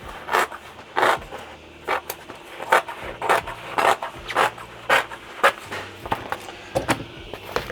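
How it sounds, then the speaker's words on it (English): Sharp scissors snipping through sound deadening material inside a van, a series of crisp, close cuts and crunchy scrapes arriving in an uneven rhythm, about a dozen distinct strokes with brief pauses between them, no speech. "in this case I'm going to use some sharp scissors"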